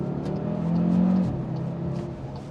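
Cupra Formentor VZ5 engine and turbo revving in manual mode on small roads, a steady close drone rising in pitch then dropping back as it settles.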